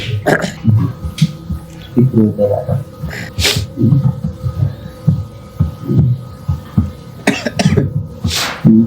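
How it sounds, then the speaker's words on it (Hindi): Harsh bursts of coughing break out repeatedly, close to the microphone, interleaved with a person talking throughout. "खांसी भी हो रही है यार।"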